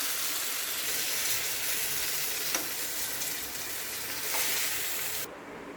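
Fish fries in a pan with a loud, dense, continuous sizzle, close and steady, with a few faint utensil taps before the hiss suddenly drops near the end.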